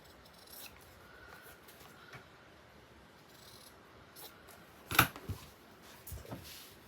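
Scissors snipping paper for a handmade black and white journal cover, a few faint quiet cuts with one sharper close snip in a calm room, no talking.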